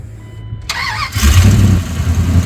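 A 1999 Dodge Durango's starter whirs briefly before the engine catches and roars into a loud, rough idle close by, following a short faint jingle at the start.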